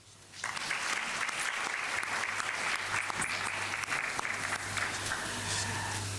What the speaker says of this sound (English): I'd like everyone here to give the stakeholders that are here a round of applause, please.